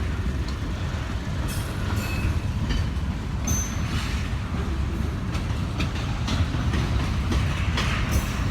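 A Norfolk Southern freight train rolls past close by, a continuous heavy rumble of wagons with rhythmic wheel clatter and brief metallic squeals over the whole pass.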